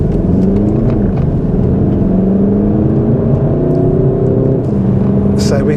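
A VW Golf Mk7 GTD on Bilstein suspension cruising at about 60 mph, a loud continuous engine drone and road rumble heard from inside the cabin, with gear-whine tones rising and falling.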